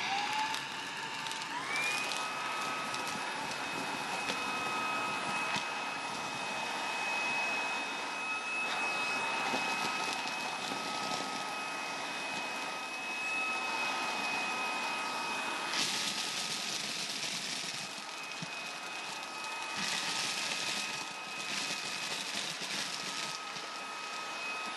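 A Fanttik V10 Apex handheld car vacuum running on its max setting, a steady loud high-pitched whine with a sustained motor tone, briefly shifting pitch midway, alone without talk.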